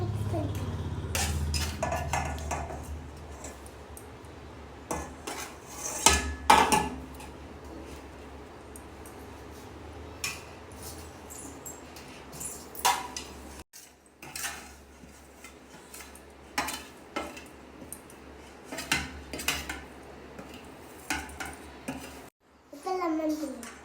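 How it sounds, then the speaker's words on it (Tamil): Chicken is mixed by hand in a bowl with salt, pepper, chicken masala, kuzhambu masala and lemon, giving faint, intermittent clinks and squelchy scraping, with a voice now and then in a quiet kitchen. "இப்போ எல்லாத்தையும் மிக்ஸ் பண்ணிக்கலாம்."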